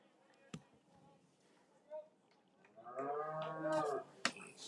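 A cow moos in a pasture beside a high school baseball game, a drawn-out low call rising near the end with faint clatter and thuds around it.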